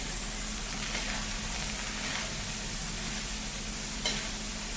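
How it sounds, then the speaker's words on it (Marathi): A steady sizzle of broad beans (val papdi) frying in a pan, with faint scraping as they are stirred, continuous and fairly quiet throughout. "फोडणीला टाकल्या शेंगा आता आपण हे छान हलवून घेऊया"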